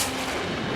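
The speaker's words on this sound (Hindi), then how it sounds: "ये तो गोली की आवाज है" A single sharp gunshot-like blast, loud and close, followed by a brief rumbling decay with no voices.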